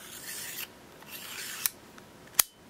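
A small everyday-carry knife's retracting rod slides out with a soft, close metallic rasp, followed by two sharp, crisp clicks, the last one the loudest, against quiet surroundings.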